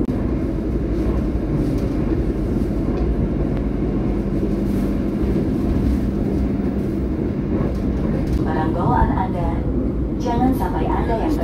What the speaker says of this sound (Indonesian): Kereta api Lodaya melintas langsung Jeruk Legi, nanti akan melintas langsung kembali stasiun Lebeng.